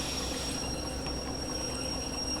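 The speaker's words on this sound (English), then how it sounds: "We can go ahead and stop the train, please." Train in Derail Valley coming to a stop, steady rumbling rail noise with a faint high squeal of brakes, continuous and moderately loud.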